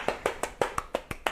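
Hands clapping at a children's storytime, seven quick crisp claps in an even rhythm, close and alone.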